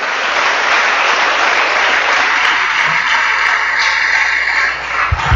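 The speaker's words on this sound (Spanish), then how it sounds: "No sé cuántos pueden dar un buen aplauso al Señor esta mañana." A church congregation applauds during a Sunday service, a loud, dense and steady wash of many hands clapping that continues the whole time, with a slight dip near the end and no talking over it.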